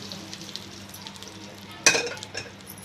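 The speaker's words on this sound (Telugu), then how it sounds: "స్మాష్ చేసుకొని ఆ పప్పు అంతా కూడా తాలింపులో వేసుకున్నాం" Mashed dal goes into a sizzling tempering in a pan: a soft, steady sizzle, then a sudden clink and splattering burst as it lands, fading back to a quiet fry.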